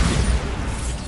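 Bombarda blasting spell explosion in Hogwarts Legacy, a short loud booming burst that rumbles and fades within about a second.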